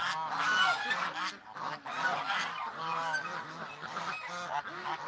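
Waterfowl at a pond honk and call repeatedly in a dense, overlapping chorus, loud and close, continuing steadily without pause.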